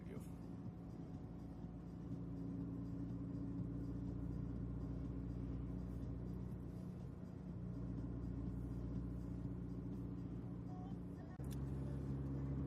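Steady car engine rumble from inside the vehicle while it is being parked, a low continuous drone that stays loud throughout and shifts abruptly near the end as the engine note changes.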